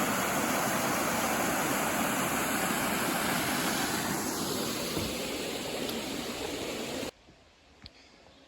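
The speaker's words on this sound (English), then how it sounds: "This is Kent Brook." Kent Brook on the Appalachian Trail near Kent Pond, Maine, rushes as a steady broadband stream roar, close and loud, cutting off abruptly near the end to quiet outdoor ambience.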